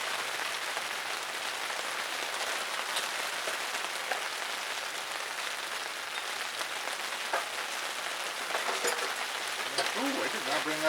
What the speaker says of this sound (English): Raining pretty good.